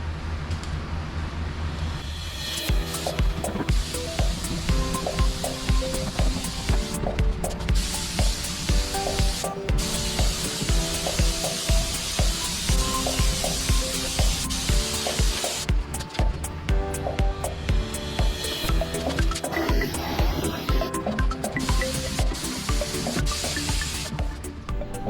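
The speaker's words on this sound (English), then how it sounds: "Now I've got the gun loaded up just with some black Krylon rust prevention paint." A spray gun applying black Krylon rust prevention paint gives a continuous hissing spray for the whole clip, loud and close, with a steady mechanical hum underneath and brief pauses in the spray.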